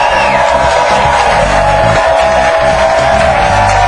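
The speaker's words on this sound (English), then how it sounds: "Our crowd's fired up, got here early." An early-arriving live audience at an outdoor ESPN sports talk show set at Fort Mason, San Francisco, makes loud, continuous cheering and whooping, a dense wall of crowd noise throughout.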